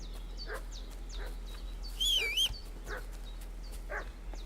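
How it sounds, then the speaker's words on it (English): A dog in the medieval video game Kingdom Come Deliverance 2 gives a series of short, evenly spaced barks and whimpers at moderate distance, with a brief whistling sound in the middle and no talking. "What's that dog making such a fuss about?"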